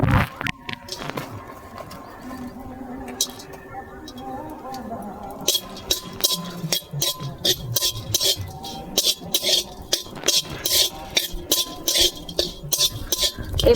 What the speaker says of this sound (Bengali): এবার মশলাগুলো সব আমি ভেজে নেব।